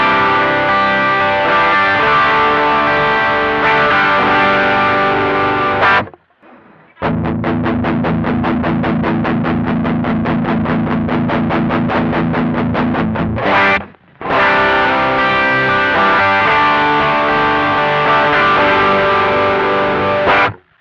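Electric guitar through a BOSS SD-1 Super OverDrive pedal with the drive raised, loud saturated chords in two sustained passages around a fast palm-muted chugging riff, with brief silences between sections.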